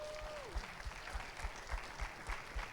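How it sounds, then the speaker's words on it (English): A high school crowd at a semester kick-off assembly applauds in a large hall, a diffuse, steady roar of clapping with low thumps underneath and a brief voice near the start. "So let's give him one more round of applause."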